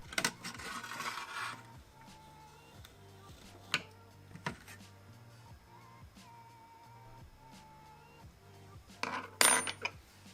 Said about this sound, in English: I'm pulling the metal bar from the eject lever.